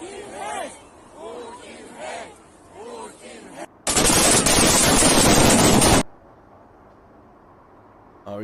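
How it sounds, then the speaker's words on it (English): Gunfire shot into the air at a protest in Kherson, a loud, dense burst of shots lasting about two seconds that cuts in abruptly after a stretch of talking and then stops. "They're using tear gas and shooting into the air."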